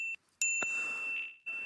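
Quiz show bell sound effect on a live talk show, a bright ringing ding that sustains and fades over about a second, followed by a second softer chime, heard alone without talk.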